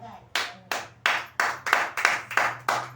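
Rhythmic hand clapping during a Christian prayer meeting, about eight sharp claps at a steady pace, with a low hum underneath.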